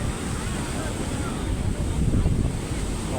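Sea waves at Puri beach in India churn in a continuous loud wash of surf, with heavy wind buffeting the microphone and a slight swell toward the end.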